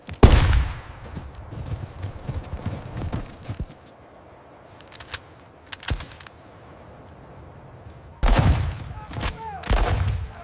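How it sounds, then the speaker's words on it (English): Battle gunfire in a Bozeman Trail war fight: bursts of shots crack loudly at the start, then scattered isolated reports at varied distances, and a heavy renewed volley near the end, with hoof-like clatter mixed in. "Keep firing, lads!"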